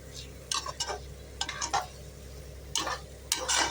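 Rice sautéed on high heat in a pan for mutton biryani, with a spatula scraping and tossing in irregular bursts over a low frying hiss, close and moderately loud.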